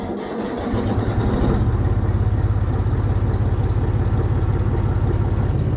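A Renault tractor diesel engine cranks and catches within the first second and a half, then settles into a loud, steady, rhythmic idle chug that continues close by.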